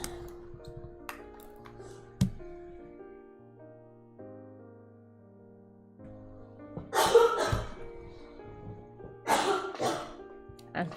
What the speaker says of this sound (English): She's coughing a lot.